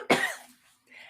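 A single sharp cough bursts out near the mic, trailing off into a brief exhale, followed by a faint breathy sound after a short pause.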